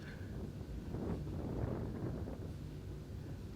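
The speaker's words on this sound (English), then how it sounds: "Here comes the wind again." Steady broadband wind noise buffets the microphone on an outdoor disc golf course during a 2018 women's professional championship final, a constant rushing roar with no talking.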